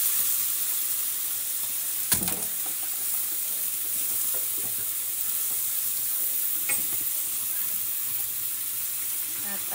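Bottle gourd (upo) frying in a hot pan, with a continuous sizzle and hiss and a sharp clatter of stirring around two seconds, plus a few softer scrapes later on.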